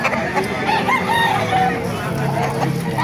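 Gilmore Hatch gamecock rooster at a busy rooster market, crowing and clucking amid steady crowd noise and other fowl, with background chatter throughout.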